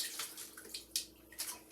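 Water runs and splashes into an emptied concentrated stock container as it is rinsed out in a home kitchen while making chicken soup, a brief, soft, close gurgling pour with small splashy bursts.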